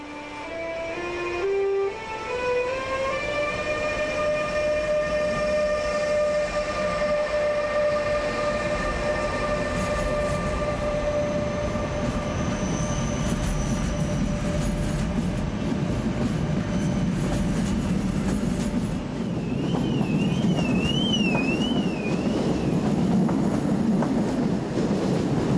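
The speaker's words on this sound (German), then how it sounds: "In Hamburg-Altona steht ein Autozug zur Abfahrt bereit. Ein MRC E-Taurus macht sich mit ihm auf den Weg." An MRC E-Taurus electric locomotive pulls a car-carrier train out of Hamburg-Altona. Its motors whine upward in rising, stepped tones over a continuous rolling rumble of wheels and wagons, with a wavering high squeal near the end and no speech.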